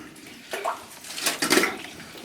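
Someone wades through water inside a mine, making close splashes and sloshing as the legs move, two short bursts growing busier toward the end, with no talking.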